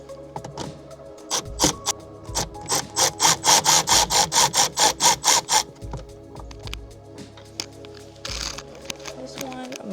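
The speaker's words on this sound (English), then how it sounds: "now we're gonna take this bolt out and that bolt out" A hand tool, likely a ratchet, backs out bolts during a 6th Gen Camaro rear seat delete, with a burst of about a dozen rapid, evenly spaced clicks in the middle and scattered metallic handling noises around it, close and fairly loud.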